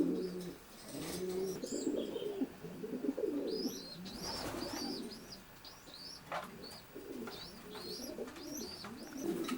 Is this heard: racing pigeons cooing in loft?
yes